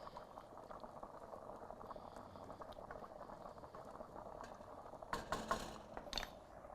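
A pot of liquid simmers on a stove, giving a faint, steady bubbling hiss throughout, with a few brief louder clinks and splashes near the end.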